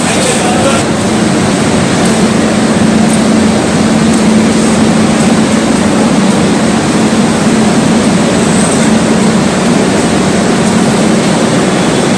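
The Rajdhani Express passenger train runs from Mumbai to Delhi with a loud, continuous rumble and a steady hum, unbroken for the full twelve seconds.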